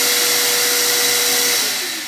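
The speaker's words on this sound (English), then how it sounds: "Hear how beautiful this vacuum sounds." A Ridgid wet and dry vacuum runs with a steady, airy whine and a faint constant tone, close by, then begins to wind down at the end.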